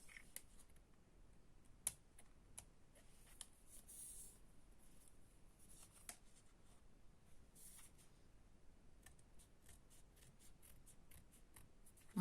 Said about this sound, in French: je viens terminer avec ma paire de ciseaux pour faire quelque chose de correct.